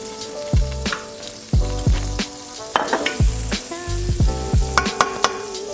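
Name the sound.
oil sizzling in a frying pan for French toast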